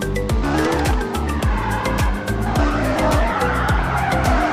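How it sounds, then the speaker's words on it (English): A car in a driving simulator video game drifts on a road, its tires squealing in a long, loud, continuous skid over a revving engine, with the squeal pulsing in a repeating rhythm throughout. "Let's do a small drift before starting our trip."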